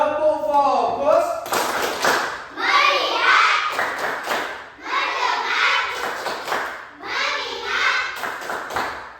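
A class of Indonesian students performs a tepuk fokus clapping routine, chanting words together between rhythmic group claps and thumps, voices and hands mixed loudly in a lively classroom.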